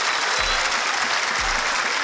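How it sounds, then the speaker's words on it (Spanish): An audience applauds two comedians at a season finale show, a loud, dense burst of clapping with a few crowd sounds and no clear talk. "un fuerte aplauso para ellos dos."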